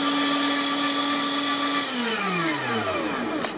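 An electric meat grinder churns kielbasa sausage meat with a loud, close motor whine that drops in pitch as it slows and spins down.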